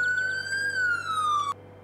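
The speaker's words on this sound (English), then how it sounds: "You can turn the siren on and off." A police-style siren wails from a Land Rover mod in a farming video game. It holds a steady, slowly falling electronic tone, then cuts off abruptly after about a second and a half, with no talk over it.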